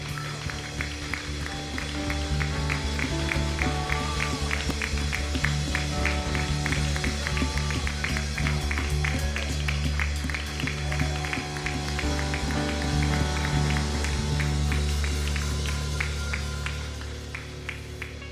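A church congregation at a Sunday worship service claps continuously in a quick, rhythmic pattern, many hands together, over sustained musical tones that run underneath throughout.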